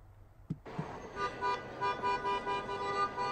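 Faint car horns beep and toot repeatedly through a steady wash of heavy night traffic in a jammed city street, sounding distant and overlapping.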